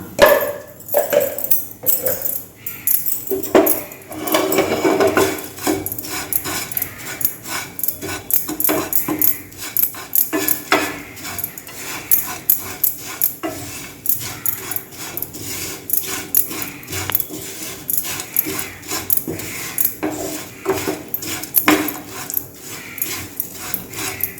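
Flattened rice (aval) being roasted in ghee with cashews in a pan, stirred with continuous dry scraping and rustling strokes that stay close and fairly steady, with no talking.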